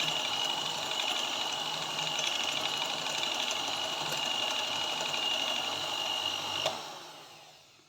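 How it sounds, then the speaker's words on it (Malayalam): An electric mixer beats chocolate sponge cake batter with a steady high-pitched whirring drone at moderate level, then cuts off near the end with a brief spin-down, no talk. "ഒരു 30 സെക്കൻഡ് ബീറ്റ് ചെയ്തെടുക്കാം."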